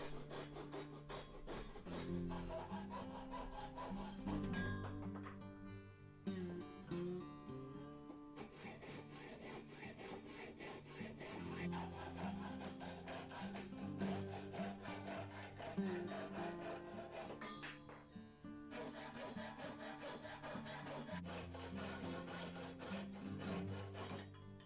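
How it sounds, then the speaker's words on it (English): A hacksaw cuts oiled 25mm tubular scrap metal in a workshop, giving steady back-and-forth rasping strokes that pause briefly twice before resuming. "To cut the metal I used a hacksaw and I used a little bit of oil to help to lubricate the blade."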